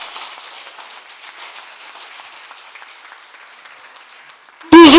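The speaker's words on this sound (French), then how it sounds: "Acclamez pour l'EIB fort." A congregation applauds in a church, a broad wash of clapping that goes on steadily, mixed with voices, before a loud cry cuts in at the very end.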